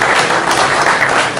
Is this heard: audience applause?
yes